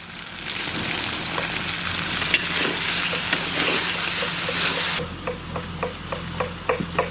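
Cumin paste and green chillies sizzle in hot oil in a pan during outdoor village cooking of katla fish curry: a steady, dense hiss that thins into a softer sizzle with small pops and clicks near the end.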